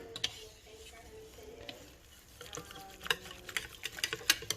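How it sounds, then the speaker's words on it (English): Sweet bread dough being stirred and smushed together in a bowl as cups of flour go in: soft, intermittent scraping and tapping that grows busier and sharper toward the end, close by with no talking. "as you add your cups, just give it a little mix and get it all kind of smushed together"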